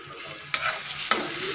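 Eggs being stirred into cooked rice in a hot pan for egg fried rice, with two sharp scraping strokes over a steady background sizzle, close and alone.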